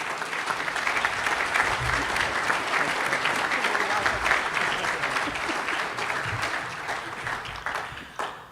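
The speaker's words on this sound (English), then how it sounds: "A round of applause for Mark." An audience at a celebration event at Marquette University breaks into dense, sustained applause, with many hands clapping at an even level for about eight seconds before it tapers off at the end.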